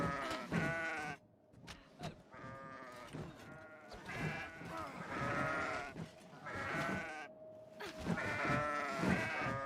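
A herd of goats in the video game Kenshi bleats loudly and repeatedly, with overlapping wavering calls coming in several bursts and no speech.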